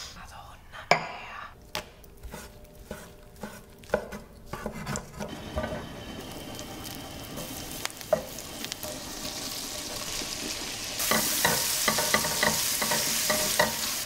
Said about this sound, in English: smoked salmon, seared in a pan